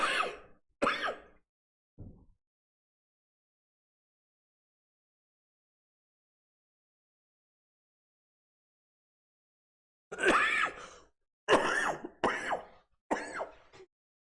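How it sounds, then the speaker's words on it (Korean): A person with a runny nose coughs and clears their throat: two quick coughs and a faint grunt, then a long silence, then a cluster of four or five more rough coughs close by. "콧물이 생겨서 자꾸 기침이 납니다."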